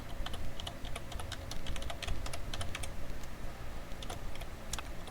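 Keys clatter on a computer keyboard in quick, irregular bursts of typing, fairly close and clear, with brief pauses between runs of keystrokes.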